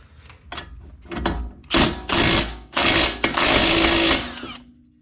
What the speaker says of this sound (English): Actually, that's the bolt snapping.